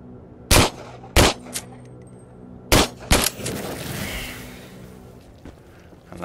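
Gunfire in the VR shooter Into the Radius: four sharp shots in two quick pairs, followed by a lingering rumbling rush of noise.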